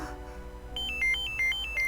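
A phone notification chime in a visual novel, a short bright melodic pattern of rising and falling tones repeating over a soft background music bed.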